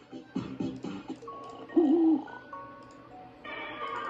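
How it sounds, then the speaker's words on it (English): An owl gives a few hoots, beginning with a rapid run of low calls and then a single louder, wavering hoot, with quieter background sounds in between. "Hey, owl. Stop."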